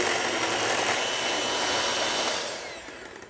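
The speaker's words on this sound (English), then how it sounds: "we're gonna go ahead and whisk this again" An electric whisk or mixer beating sweet potato pancake batter, a steady, dense buzzing whir held at even loudness that winds down near the end, no talking.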